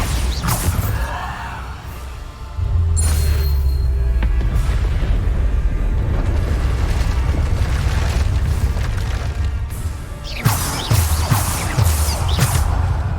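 The Bombarda spell explodes in Hogwarts Legacy, a video game. A sharp blast at the start is followed by a deep, sustained rumble and then another cracking impact, all loud and close, with no speech.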